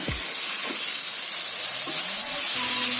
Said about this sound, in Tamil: முட்டைக்கோசு 1 கப்பு, அது போட்டுக்கலாம்